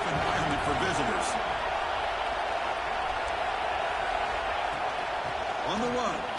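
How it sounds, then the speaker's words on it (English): Steady roar of a stadium crowd at a Clemson versus USC game in the NCAA 26 football video game, a continuous broadband wash with faint voices mixed in throughout. "Listen to the crowd energy here in the early going"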